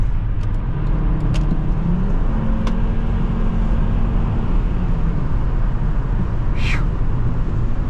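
A 2005 Volvo XC70 2.5T AWD wagon drives along under steady, loud engine and road noise, a low drone that holds throughout with a slight rise partway through as it pulls ahead.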